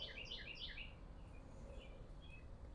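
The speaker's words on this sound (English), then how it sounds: "And you can hear all the birds." Birds chirping outdoors on a beautiful day, a quick cluster of bright twittering calls at the start, then fainter scattered chirps over a soft steady background hum.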